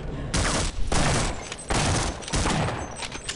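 Gunfire in the video game Half-Life comes in several dense bursts of rapid shots separated by short gaps, loud and close, with no talk.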